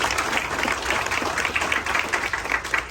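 An audience applauds at a ribbon cutting, a steady patter of many hands clapping together, moderately loud and close, with no break through the few seconds.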